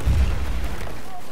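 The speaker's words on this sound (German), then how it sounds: "Nächste Sekunde werde ich vom Panzer getötet." A tank cannon fires in a video game, a single heavy low boom at the start that rolls into a sustained rumble, loud and close.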